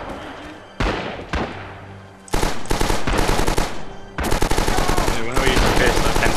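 Pistol fire in the World War II shooter Red Orchestra 2, loud sharp shots coming in rapid spaced bursts, mixed with distant battle gunfire and faint talk.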